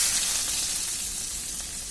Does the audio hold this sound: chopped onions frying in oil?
yes